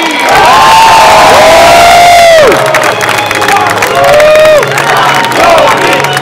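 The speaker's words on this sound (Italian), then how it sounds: "Accogliamo con un applauso il nuovo che arriva, finalmente un giovane, Mangoni!" A crowd at a political rally in Milan roars with loud cheering, shouting and whoops, dense and close, with applause blended into the sustained din.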